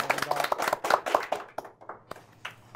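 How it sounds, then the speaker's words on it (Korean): A small audience claps for a guest at a talk event, a short burst of dense hand claps that thins out and fades to scattered claps within a few seconds. "박수 부탁드리겠습니다."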